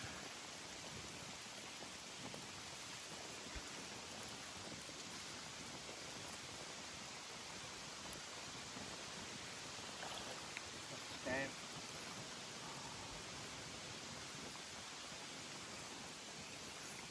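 Heavy rain pours down at a lake during carp fishing, a steady dense hiss that fills the whole clip, faint in level but constant, with a brief muffled sound partway through.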